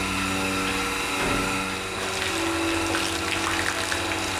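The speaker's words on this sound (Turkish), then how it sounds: "Şimdi ben bunlara bir duş aldıracağım." A hose sprays icy-cold water steadily to cool and shower farm animals suffering in the heat. The water makes a continuous close rushing hiss, with no talk.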